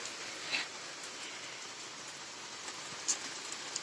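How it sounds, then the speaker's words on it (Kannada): Soft, steady rain patters in a continuous hiss, faint and even, with a few brief louder drips; no voices. "ಮಳೆ ಬರ್ತಾ ಇದೆ ಖುಷಿ ಇದೆ"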